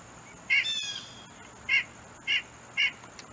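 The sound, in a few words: White-breasted Nuthatch single call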